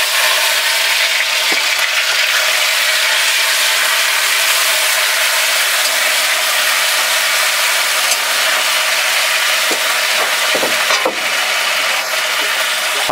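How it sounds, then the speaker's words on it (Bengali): Onions frying in hot oil in a kadai for a village-style ghugni, giving a steady, dense sizzle that runs unbroken with a few faint stirring knocks. "তাহলে আমার কড়া গরম হয়ে গেছে, আমি তেল দিয়ে দিচ্ছি। দিয়ে দেবো পেঁয়াজ।"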